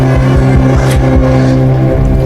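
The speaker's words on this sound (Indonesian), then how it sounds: "terlihat mobil Alex sedang dinyalakan" A car engine running close by with a loud, steady idle and rhythmic low pulsing, a throaty rumble that continues evenly with no voices over it.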